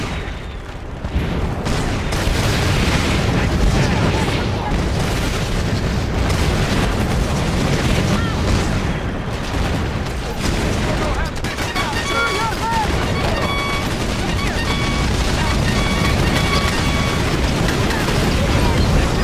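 Sustained firefight in a combat video game, with dense gunfire and explosions rolling continuously and loudly throughout, including heavy booms and rapid bursts.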